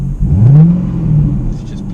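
A C8 mid-engine Corvette engine revs up with a deep, rising roar that peaks and then settles into a rumbling idle, close and loud, lasting about two seconds.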